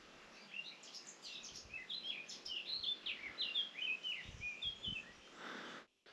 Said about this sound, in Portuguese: É que só se ouvem pássaros, reparem.